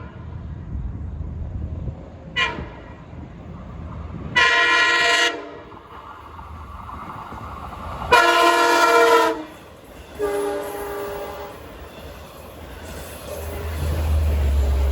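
Westbound Montauk Branch train passing at Islip, rumbling throughout while its horn sounds in several loud blasts of varying length, close by.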